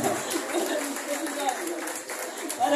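Party crowd applauding at a year-end celebration in a Dubai City venue, a sustained patter of clapping mixed with voices and cheering.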